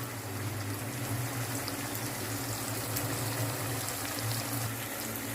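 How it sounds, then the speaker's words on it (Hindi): A little water pours into a cooking pot while chicken and chickpeas are prepared, a steady close liquid rush and bubbling with a low hum beneath, and no one talking. "थोड़ा सा पानी शामिल करेंगे"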